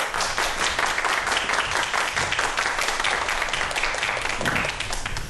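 An audience applauds to welcome a lecturer at a science talk, with dense, steady clapping that holds loud and even from start to finish.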